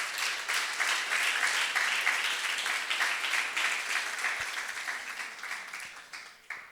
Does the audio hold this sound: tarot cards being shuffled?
no